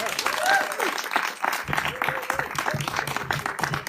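Clapping from a crowd at a house party, a lively mix of close and scattered hand claps with voices talking and cheering among them, moderately loud throughout.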